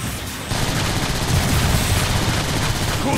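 Rapid weapon fire in the video game Transformers: War for Cybertron, a dense, loud barrage of shots and blasts starting half a second in and continuing steadily to the end.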